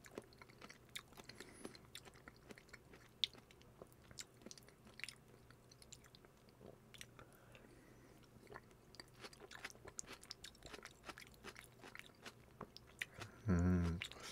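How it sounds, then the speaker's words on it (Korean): Someone eats rose-sauce soft tofu stew in a home-cooked Korean mukbang, with quiet, close chewing and soft biting sounds spread through the clip and a brief louder bump near the end. "요거부터 먹겠습니다"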